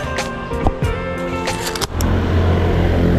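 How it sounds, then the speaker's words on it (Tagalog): Busy street traffic in Taiwan, with cars and motorcycles passing close by, a rumbling engine pass and whooshes over constant road noise, with no talk. "ang dami pong sasakyan. Ay mga motor."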